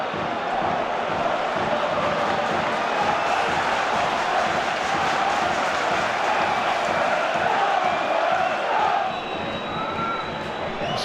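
Home supporters roar steadily through a Barnsley football match in an evening stadium, a dense, loud wash of crowd noise holding constant for the whole stretch with brief whistling near the end.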